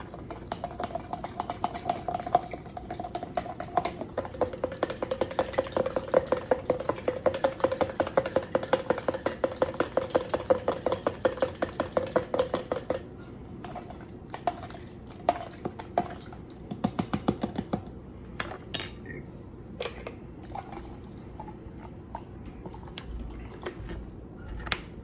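Gravy mix is stirred into water in a container, a fast, steady clatter of a utensil knocking and whisking against the sides for a long stretch, then slower scattered taps and scrapes near the end, no talking.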